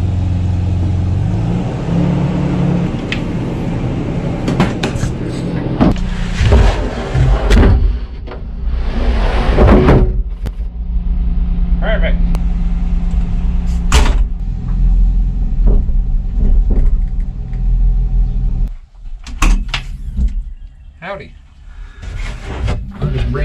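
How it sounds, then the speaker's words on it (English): Toyota Tacoma short bed pickup truck reversing, engine running loud and close with revving, interior clunks and door sounds, while someone talks over it. "So I'm gonna have to back the truck into it and slide it in."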